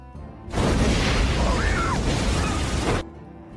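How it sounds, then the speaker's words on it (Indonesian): A truck blows up in a film scene: a sudden loud, dense blast of noise that holds for about two and a half seconds, then cuts off abruptly. "Tiba-tiba, truk Chris meledak dan Booth tertawa terbahak-bahak."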